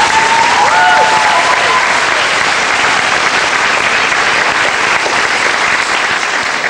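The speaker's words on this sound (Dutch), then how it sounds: "Nog een heel groot applaus voor ons." A crowd at a gymnastics competition day applauds loudly and continuously for several seconds, a dense roar of clapping with a brief whistle-like tone near the start.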